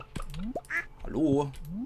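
Ducks quack in a farm coop in the Stardew Valley video game, a few short nasal calls mixed with game blips, while someone talks in German over them.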